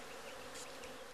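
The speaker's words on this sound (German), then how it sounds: "Die Bienen mögen die Blüten der Miombo-Bäume, aber sie fliehen jetzt, die" Bees buzz around flowering Miombo trees in a steady, faint insect drone that continues without a break.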